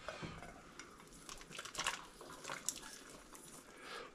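A pot of broth with vegetables being stirred carefully, with quiet scraping, clinking and sloshing of a spoon against the pot, close but faint, no talking.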